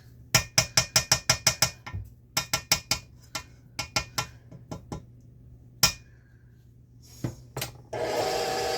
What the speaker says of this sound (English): And then you're just going to mix it gently.